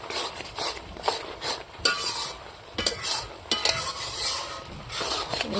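Taro curry stirred and mixed in a frying pan, a spoon scraping in repeated strokes over a steady sizzle, with occasional sharper metal clinks against the pan, close and alone without talk.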